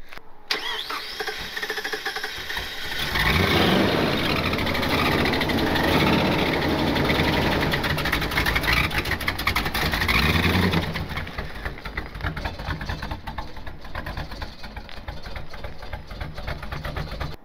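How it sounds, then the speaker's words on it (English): An engine cranks and catches, revving loudly for several seconds before settling into a rough, uneven idle with a lumpy hot-rod cam lope, close by and continuing steadily to the end. "It's not blown up, it's just got cam lope like a hot rod."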